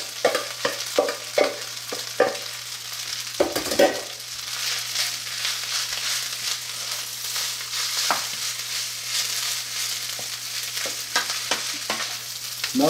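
Fried rice with onions and garlic sizzles steadily in a hot pan, with scraping stirs and clatter near the start, then a continuous, fairly loud frying hiss throughout, no talking.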